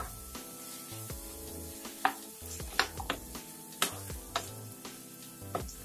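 Banana stem pieces with salt are stirred in a hot pan, giving light sizzling with quick scraping and tapping strokes at uneven intervals over a tonal background.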